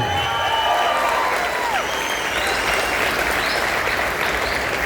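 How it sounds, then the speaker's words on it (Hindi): Loud, continuous applause from a large crowd at a company event in Surat, close and dense clapping with scattered cheers and voices rising above it. "ऐसे सौरभ सर के लिए शानदार तालियां"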